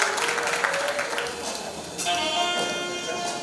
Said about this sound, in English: Going twice, a big round of applause